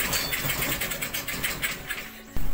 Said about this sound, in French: la machine démarre mais elle cale aussitôt